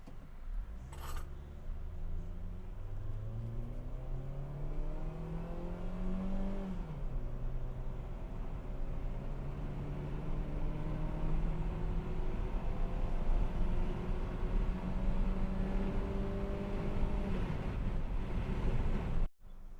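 A Mitsubishi Xpander Cross accelerating from 0 to 100 in D mode, its engine note rising steadily through the gears, with wind and road noise building around it, heard from inside the car with no talking.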